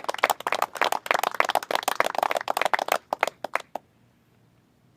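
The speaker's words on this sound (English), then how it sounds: "So can we give them a round of applause too, please?" Audience applause after a call for a round of applause at a political event, dense clapping from a crowd that builds briefly, then thins to scattered claps and stops.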